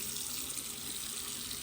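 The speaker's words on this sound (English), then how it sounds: "Now I'm going to turn on the water." A bathroom tap runs into a sink, a steady, close hiss of flowing water that stays even throughout with no other sounds.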